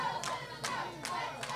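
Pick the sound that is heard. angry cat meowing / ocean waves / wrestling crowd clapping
wrestling crowd clapping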